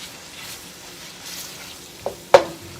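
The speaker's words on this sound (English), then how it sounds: "Once that butter all gets melted down, we're gonna end up turning this down heat-wise" Butter melting in a pan gives a faint, soft sizzle, then two sharp clinks of a utensil against the pan near the end.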